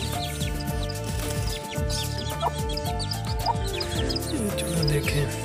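A hen clucks among her chicks in a backyard chicken setup, with repeated close clucks and soft chirps overlapping in a busy, continuous stream.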